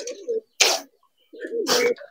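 Pigeons at a bird market give two short bursts of cooing close by, with a brief rustle or flutter between them and no talk.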